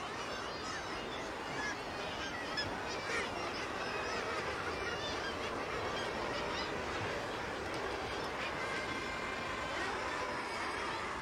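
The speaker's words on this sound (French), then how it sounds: "Sur les façades vertigineuses, des dizaines de milliers d'oiseaux se côtoient, se chamaillent et tournoient" A dense colony of tens of thousands of seabirds on sheer Scottish sea cliffs keeps up a constant, overlapping wall of honking and squabbling calls, steady and loud throughout.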